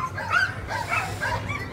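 Sled dogs at the Fur Rondy 2020 sled dog race in Alaska give short, high yips and whimpering barks, several in quick succession, close by over a low background rumble.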